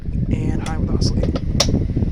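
Small early-2000s Lasko model 2009 9-inch oscillating table fan running on high, a steady broadband whir with slightly scraping, worn bearings, with brief clicks and occasional voices over it.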